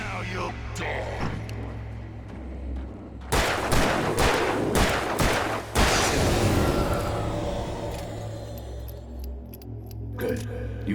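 Several loud gunshots ring out in close succession in the horror game Alan Wake Remastered, sharp cracks over a low droning ambience, followed by a long fading reverberant tail.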